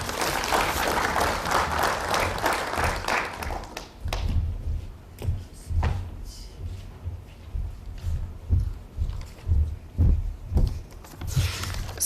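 Audience applause at a high-level PAP-NEPAD event on food and nutrition security. A dense burst of clapping fills the first four seconds, then thins into scattered, uneven claps with low thumps, moderately loud and with no speech.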